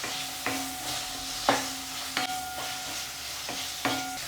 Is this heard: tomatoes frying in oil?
yes